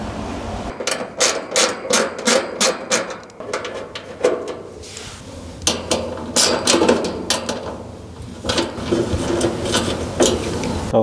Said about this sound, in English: I'm using a 5/16 socket.